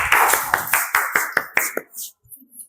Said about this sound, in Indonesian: tepuk tangan bagi kalian.